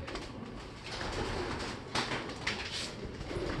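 A pigeon that has flown down to forage coos softly amid a steady wash of outdoor noise, with faint bursts and rustles rising briefly.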